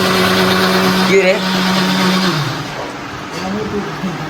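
An electric mixer grinder's motor whirs loudly, then winds down and stops partway through, with people talking over the noise.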